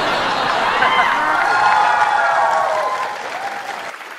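A TV show studio audience bursts into loud, sustained applause for a male singer, a dense roar of clapping with some cheering and laughter mixed in that tapers slightly near the end.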